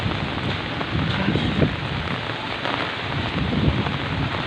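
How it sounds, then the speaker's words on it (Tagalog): Heavy typhoon rain from Typhoon Ulysses pouring steadily on surfaces, a dense continuous hiss with gusty wind buffeting the microphone, close and loud with no talking. "Kung patuloy pa siyang lumakas yung ulan"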